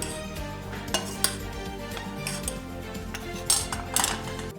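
Keşkek, Elazığ-style, being spooned onto plates: a metal spoon scrapes and clinks against the pot and dishes in scattered, close taps and scrapes, a few sharper knocks standing out, with no talk.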